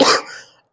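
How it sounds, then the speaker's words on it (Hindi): A single short, loud cough, close by and abrupt, fading out in under a second. "मैं खांसी से बहुत परेशान हूं"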